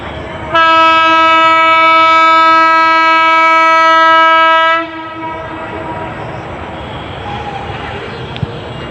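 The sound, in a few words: local train approaching from Chattogram, sounding its horn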